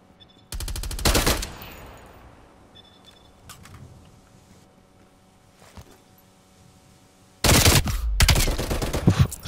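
Two bursts of rapid automatic gunfire, loud and sharp, separated by a quieter stretch of low background noise, as in a video game.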